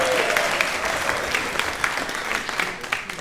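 An audience at a live comedy night claps steadily, a dense, continuous burst of applause from a crowd filling the room for the full stretch.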